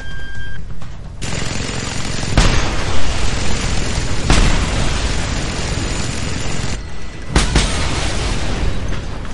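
Loud, continuous blasts and booming explosions in Just Cause 2, with sharp impacts and rumbling, dense and close, overlapping with heavy gunfire-like bursts.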